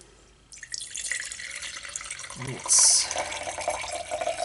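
Water is poured into a container to measure it for lye soap making, a splashing, trickling stream that swells to a brief louder gush partway through, with a short spoken word near the start.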